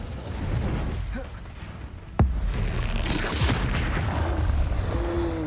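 Spell effects from the Hogwarts Legacy video game, such as Incendio and Confringo, land in dense combat noise with whooshing bursts and one sharp booming impact partway through, and a voice is heard faintly in the mix.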